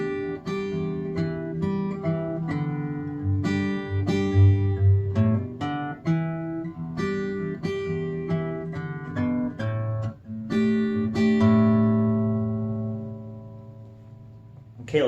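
A solo guitar plays the introduction of a song with hammer-ons and pull-offs, giving a steady run of ringing plucked notes and chords over about fifteen seconds, with no voice.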